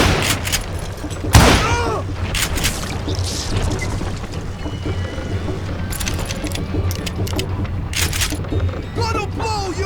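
Gunfire in the Western shooter Call of Juarez: Gunslinger: a sharp loud shot early, then a dense, busy mix of further shots, impacts and clatter running throughout, with game voices mixed in.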